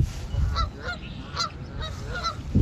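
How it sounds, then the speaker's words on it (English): A Canada goose honks loudly and close by, several repeated calls over light wind noise in an outdoor field recording, with no talking. "And it's the Canada goose, right?"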